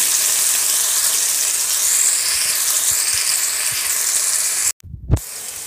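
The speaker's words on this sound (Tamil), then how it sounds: "இப்போது நாம் இந்த அரைச்சி வச்ச இஞ்சி பூண்டு பேஸ்ட்டு அதில் போட்டுக்கலாம்." Ginger garlic paste fries with curry leaves and mint for a goat intestine curry, a loud hissing sizzle that runs steadily, cuts off abruptly, then resumes with a clatter.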